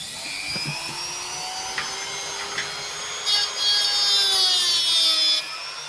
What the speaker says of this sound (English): I'm just going to cut this with a Dremel.